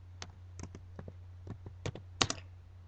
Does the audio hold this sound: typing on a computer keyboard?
yes